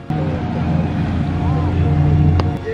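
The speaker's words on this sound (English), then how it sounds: "We're about to take a boat." A motorboat crosses Lake Arenal, its engine a close, steady drone with wind and water noise over a short stretch, while people talk briefly in the background.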